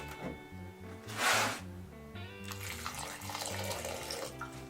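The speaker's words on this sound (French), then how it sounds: "Je vais rajouter de l'eau." Water poured into a spice bread sauce base for quails, a brief rushing splash over a steady music bed, followed by a lingering hiss.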